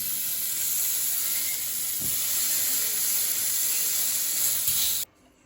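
Steaks sear in a hot pan with a loud, steady hiss and sizzle close up, a couple of brief louder spits, then the sound cuts off abruptly near the end.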